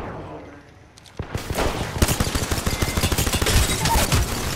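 Rapid semi-automatic P2020 pistol fire in an Apex Legends-style shooter, a dense string of sharp, close shots that starts after a quiet lead-in and keeps a steady, fast rhythm to the end.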